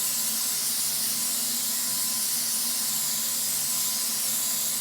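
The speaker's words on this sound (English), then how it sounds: "And then we're going to go ahead and spray it on top with a little bit more spray butter." A steady, continuous hiss of spray butter from an aerosol can runs unbroken throughout, close and fairly loud, with no voices.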